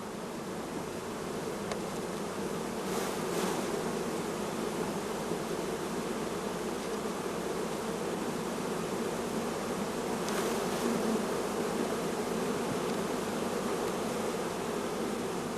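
Honey bees fill the air with a dense, continuous buzz around an open hive box as frames are closed up and extra bees are shaken in. The drone holds steady and close throughout, with no voices.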